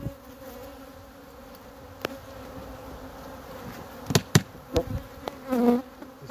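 Swarm of killer honey bees during the extraction of two colonies from a house, a steady insect drone with sharp knocks and bumps of removal work, louder bursts near the end, no voices.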